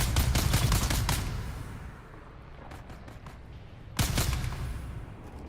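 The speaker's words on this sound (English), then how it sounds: "What, are you gonna shoot at me now?" Gunfire in the video game Dune: Awakening rattles in a quick burst, fades, then a second burst hits near the end, moderately loud.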